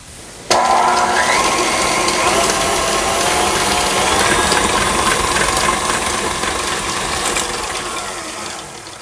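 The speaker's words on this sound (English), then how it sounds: "I'm going to add my granulated and my brown sugar. And I will mix this on high for a couple of minutes." Electric hand mixer running on high, beating butter with granulated and brown sugar; a steady whirring motor with rattling beaters starts abruptly and continues loud throughout, easing slightly toward the end.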